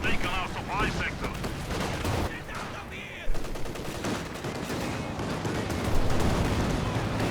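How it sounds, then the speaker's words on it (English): A Soviet IL-2 ground-attack plane makes a strafing pass in Company of Heroes 2, with dense, continuous bursts of cannon and machine-gun fire and explosions running through the whole battle scene, loud and sustained beneath a commentator's voice. "Causing the IL-2 strafe."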